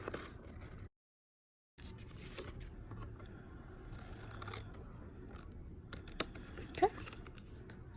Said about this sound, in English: I find it easier just to use scissors and then the edge of my card as a guide.